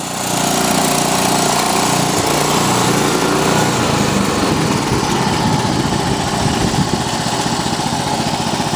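A Honda Harmony H2113 hydrostatic lawn tractor engine idles low and steady in extreme cold, a close, continuous putter with an even rhythm throughout and no talk.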